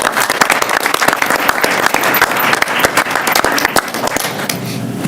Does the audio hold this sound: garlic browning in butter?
no